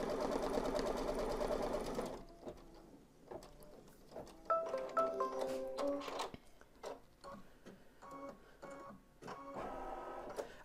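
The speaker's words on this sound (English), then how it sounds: "it's going to stitch the ears together with a reinforcing triple stitch so that when you turn them, they're going to be nice and strong" Embroidery sewing machine stitching the ears of a fabric dog softie with a reinforcing triple stitch, starting with a loud steady whir, then a run of quick, rhythmic mechanical ticks and stepping hums close by.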